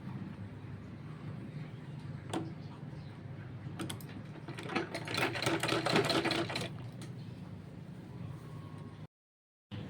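A sewing machine stitches a small child's kurta, running in a quiet steady mechanical chatter with a louder burst of stitching through the middle before it stops.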